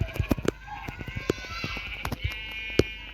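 Goat bleating in Minecraft, a few short bleats mixed with sharp clicking game sounds and thumps, fairly loud and close.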